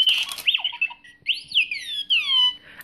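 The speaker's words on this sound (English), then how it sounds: "And that's the extent of R2's talking" An R2-D2 toy gives a close, loud run of electronic beeps, warbles and swooping whistles in quick bursts with short pauses between them, and nobody talks.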